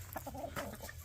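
Gamefowl hens, Kelso and roundhead birds, clucking in short soft bursts close by, with a few brief higher calls over a low steady background hum.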